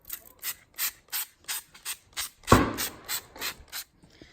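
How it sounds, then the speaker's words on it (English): A mud-repellent spray bottle is squirted onto a horse's coat, about a dozen short, evenly spaced hissing spritzes in quick rhythm with one sharp knock midway, close and clear with no talking. "So let's spray this on you now, Spritey."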